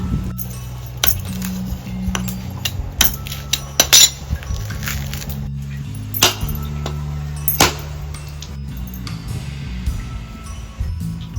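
Sharp knocks from breaking a coconut in a Konkan home kitchen, roughly eight hard cracks at irregular intervals over a steady low hum, close and fairly loud, with no talking.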